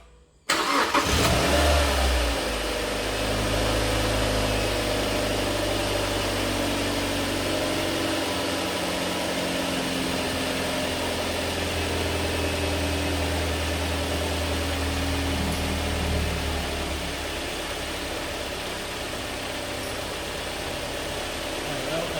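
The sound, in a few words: Mazda MX5 engine starting and idling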